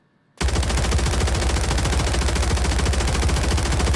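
Close-range automatic weapon fires nonstop in Warzone, a loud, dense burst of rapid shots with heavy low-end thump running from just after a brief silent start to the end.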